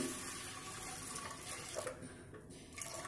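Water pours steadily from a tap into a cooker holding lentils, a continuous splashing stream heard close and fairly quiet, with no talking.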